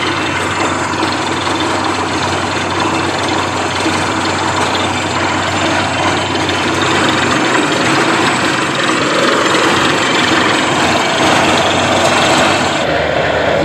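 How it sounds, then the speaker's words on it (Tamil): A heavy borewell drilling rig runs continuously nearby, a loud, steady mechanical roar with rattling vibration and no pauses. "இது ஃபஸ்ட்டு பாயிண்ட் ஓடிக்கு இருக்குது, 300 அடி ட்ரில் ஆகி இருக்குது."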